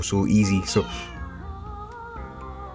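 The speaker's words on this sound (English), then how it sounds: "sorry, that was my cat again." A pet cat meows several times in quick succession near the start, close and fairly loud, then a person speaks calmly over a quiet room; the talking overlaps the last meow.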